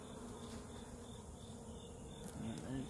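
Honey bees buzz in and around an open hive, a faint, steady droning hum with a few individual bees whining louder near the end.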